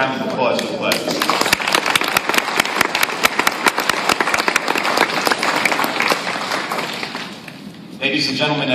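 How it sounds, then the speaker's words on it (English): A second round of crowd applause fills the room after a speech by Cliff, dense and steady clapping lasting about seven seconds before tapering off and a voice returns. "Let's have another round of applause for Cliff."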